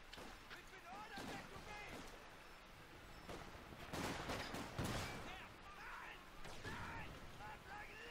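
Rapid machine gun fire from an MG emplacement in a building crackles in repeated bursts amid distant battle noise in Company of Heroes 2, with voices talking over the din.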